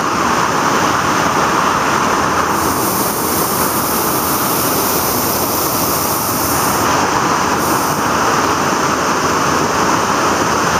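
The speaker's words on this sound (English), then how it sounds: "Here's the waterfall we were just looking at." Steady, loud broadband rush of a waterfall seen from a slippery trail near a bridge, a continuous roar with no talking over it.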